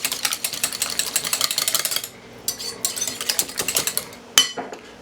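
Spinach casserole ingredients are mixed with a utensil, producing rapid rhythmic clicking and scraping strokes against the dish, a short pause, then more brisk stirring and a sharp clink, close and clear, with no voices.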